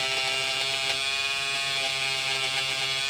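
A Peggy stitch eraser buzzes against fabric stitches, a steady, close electric hum that holds evenly throughout with no voices.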